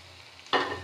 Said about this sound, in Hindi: और इसे फिर से थोड़ा देर फ्राई करें।